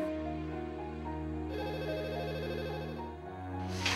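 A telephone rings with a steady electronic tone, fairly close and alone, continuing for a few seconds.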